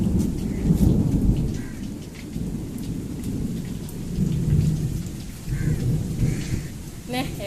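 Steady heavy rain pours outdoors with deep rolling thunder rumbling through it, the downpour loud and continuous, with a few brief drip-like taps near the end.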